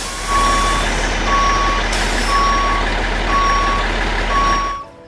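A catering truck in the airport management game Airport CEO reverses to a run of evenly spaced electronic beeps, five or six in a row over a steady low engine hum, loud and close, then cuts off abruptly.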